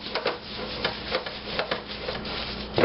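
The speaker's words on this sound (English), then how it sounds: "Just rub that marinade right down into everything" Hands rub marinade into racks of pork ribs in a pan, giving a steady, close, wet rubbing and scraping with soft rhythmic strokes and no talking.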